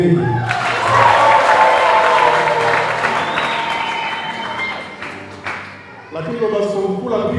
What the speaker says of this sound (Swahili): Tushangilie Mungu kwa makofi mengi.